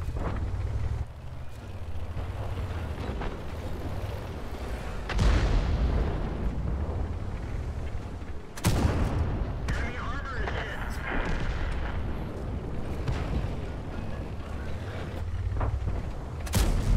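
Tank gun blasts and shell impacts in World of Tanks, with loud booming bursts recurring over several seconds amid a rumbling engine bed, while someone talks through much of it.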